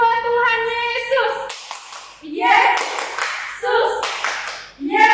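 Children at an HKBP Sunday school service in Tangerang clap their hands in short bursts, loud and close, between stretches of sung and spoken voices.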